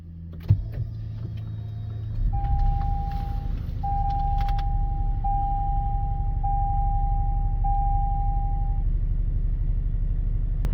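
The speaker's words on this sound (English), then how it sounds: "Now let's go ahead and start up the vehicle." A car engine starts with a brief jolt, then settles into a steady low idle that continues. A series of electronic chime tones repeats over the running engine.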